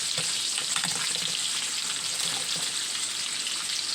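Eggs frying in a hot skillet on a stovetop, a steady close sizzle with faint crackles running throughout.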